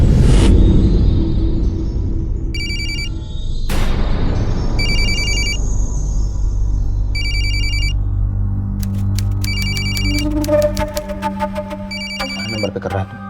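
A telephone ringtone repeats in regular electronic bursts, loud and clear, alongside a heavy low boom and rumble at the start, with a denser burst of tones near the end and no talking.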